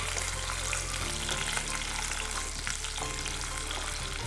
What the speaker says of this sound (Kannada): ಇದೊಂದು ಎರಡು ನಿಮಿಷ ಫ್ರೈ ಆದಮೇಲೆ